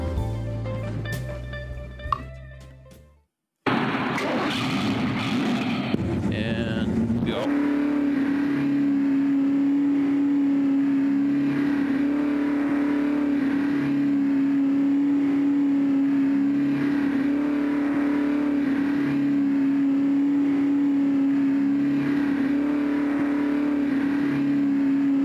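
In the GTR2 racing video game, a car engine revs at full throttle as a loud, steady sustained drone that holds a constant pitch for about twenty seconds after brief changing sounds at the start.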